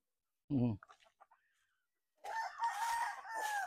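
A Sweater gamefowl rooster crows in one long, loud call after a brief burst of nearby speech, the crow drawn out and wavering before trailing off.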